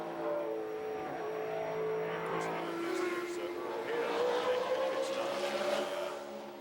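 A Dodge Viper race car at the 1996 Mosport IMSA endurance race sweeps through a chicane, its engine note rising and falling steadily under a commentator's voice, loud and continuous with little loss of pace.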